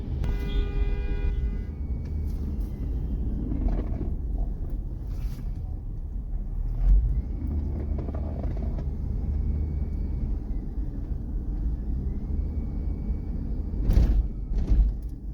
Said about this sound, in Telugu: చూడండి ట్రాఫిక్ ఎలా ఉందో ఈ టైం అప్పుడు కూడా